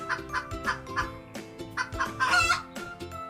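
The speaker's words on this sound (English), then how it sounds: "In Urdu, a hen is called murgi." A hen clucks in quick repeated bursts, rising into a louder excited cackle near the end, close and clear with no talking over it.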